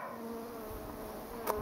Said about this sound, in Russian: Итак, видим первых двух пчелок.